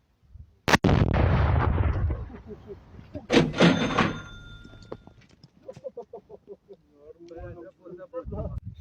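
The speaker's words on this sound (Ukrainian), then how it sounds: "Увага! Вибух!" A sharp, loud blast bursts out as an explosive charge detonates to destroy American anti-tank missiles, followed by a rumbling roar and a second booming detonation, with voices chattering afterward.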